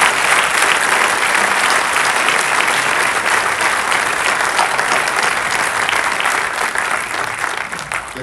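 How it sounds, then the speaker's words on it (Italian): A packed theatre crowd at an election campaign event in Teramo applauds continuously, a dense, even roar of many hands sustained throughout without letting up. "faccio un applauso alla mia famiglia"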